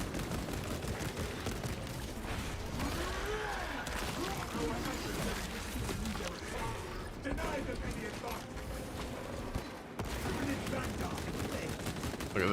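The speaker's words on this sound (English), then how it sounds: "We love the nade launcher." Grenade launcher fire in a space video game, rapid repeated blasts and mechanical clanks filling the mix, with someone talking over the gameplay.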